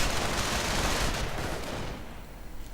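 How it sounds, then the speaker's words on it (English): Dense automatic gunfire from a World War II style video game battle, a steady loud wash of rapid shots aimed at riflemen that thins out slightly toward the end. "lots of automatic fire against the riflemen, shooting them up"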